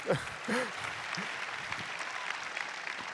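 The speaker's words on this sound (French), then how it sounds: "Ah, ça s'applaudit quand même, bien sûr." Audience applause at a graduation ceremony for a business school, steady moderate clapping over a few seconds, with a voice speaking briefly over the start.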